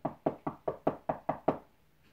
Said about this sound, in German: Also, klopfen.